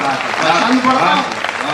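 A burst of audience clapping at a poetry recital fills the short moment, dense and steady, with a voice speaking over it.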